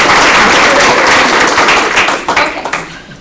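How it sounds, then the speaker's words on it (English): Dense applause from a meeting audience, loud and close at first, then thinning into scattered individual claps as it fades out. "So can we just give ourselves all a round of applause?"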